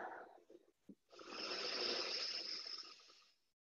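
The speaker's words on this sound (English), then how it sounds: "Let's take a deep breath." A single long, deep inhaled breath in a yoga class, loud and close, rushing steadily for about two and a half seconds after a brief short breath.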